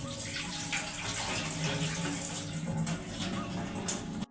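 Broken wheat (daliya) is rinsed in water like rice in a kitchen, producing a continuous splashing and running-water wash with gentle swishing, close and moderately loud for about four seconds.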